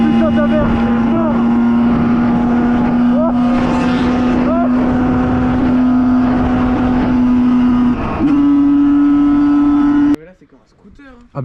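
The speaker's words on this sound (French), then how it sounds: "Ah ben là c'est un scooter hein." A 50cc scooter engine drones loudly and steadily close by, a sustained buzzing tone that shifts pitch slightly near the end before cutting off abruptly, followed by a brief quieter stretch.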